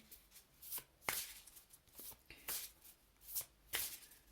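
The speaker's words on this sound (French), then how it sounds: "concentrez-vous pendant que je brasse les cartes, que je les prépare" Playing cards shuffled by hand make a run of crisp riffling bursts, close and fairly quiet, repeating at an uneven pace.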